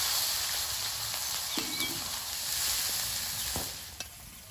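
Black cumin, ginger and green chili sizzle in hot oil in a pan just used for frying tengra fish, a steady close hiss with a few light clinks of stirring.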